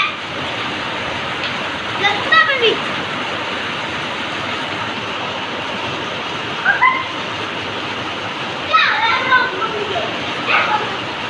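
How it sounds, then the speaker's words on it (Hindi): Steady soft patter of light rain fills the background, with a few brief voices or calls breaking through now and then. "तो ये बारिश आ गई, पर ज़्यादा बारिश नहीं है, कम ही आ रही है"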